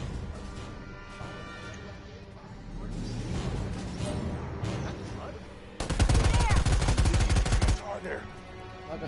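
Gunfire in a first-person video game: sustained automatic bursts, loudest in a long dense volley near the end, close and heavy, with scattered earlier shots and voices talking among the noise.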